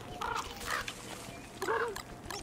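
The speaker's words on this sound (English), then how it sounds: "Get out of here, turkey. Don't you eat our berries." A turkey in the video game Don't Starve Together gobbles in three short, close, fairly loud bursts of throaty clucking, set against a soft, steady game background.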